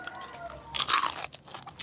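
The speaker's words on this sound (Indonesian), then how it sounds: "kriuk itu gorengan tempe" A crisp crunch of someone biting into a fried tempeh snack, a short burst of crackly bites close to the mic, with quieter chewing crunches after.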